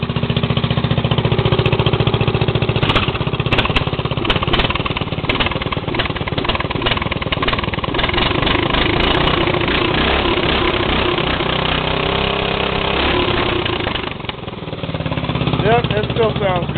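Engine running at idle just after a cold start, a loud, close, rough chattering drone that stays steady throughout with some clatter and mechanical noise mixed in.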